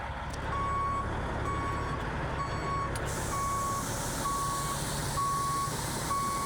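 A Euclid scraper backs up, its reversing alarm repeating steady evenly spaced beeps over the loud, constant rumble of the heavy diesel earthmover nearby.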